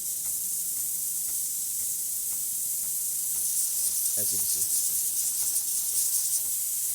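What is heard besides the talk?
Breville Barista Express espresso machine steam wand hissing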